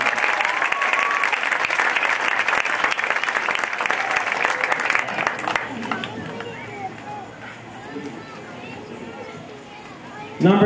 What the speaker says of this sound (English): give them a real strong round of applause for committing back to the Blaze program